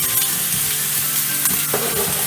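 Sausage and chopped gherkin warming in a hot pan, a steady loud sizzle and frying crackle with faint stirring, close up and without talk.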